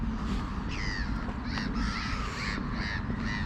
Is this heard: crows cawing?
yes